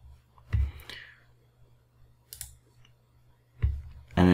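Sharp mouse clicks on a computer in a quiet room, a crisp click near the start and another pair near the end, with a fainter tick in between and no talking.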